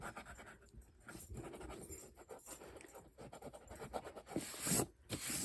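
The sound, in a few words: erasing pencil lines of a mandala with an eraser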